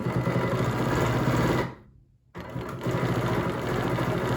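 Sewing machine stitching a straight line of fabric for a quilting design, a rapid, steady mechanical whir with a brief pause partway through before stitching resumes, close and moderately loud, with no talking.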